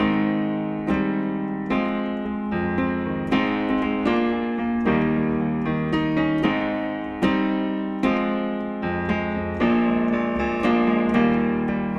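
Piano chords from a song played steadily in a slow rhythmic pattern, each chord struck and sustained, full and close with no voices.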